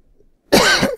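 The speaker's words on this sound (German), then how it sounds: "Entschuldigung, dass ich jetzt schon wieder husten musste" One sharp, close cough that bursts out after half a second of silence and trails off into a throaty rasp.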